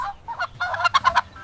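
Several nasal honks and gobbling bursts from a turkey, clustered quickly toward the end, heard up close and alone.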